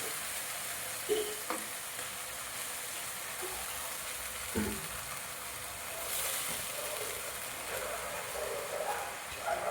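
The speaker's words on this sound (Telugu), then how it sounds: "ఇదంతా మనం మసాలా పట్టే వరకు కొంచెంసేపు మనము ఇలాగా కలుపుకుందాము." Vegetables and masala for veg noodles frying in a pan, a steady close sizzle throughout with a few soft stirring scrapes and clanks breaking through now and then.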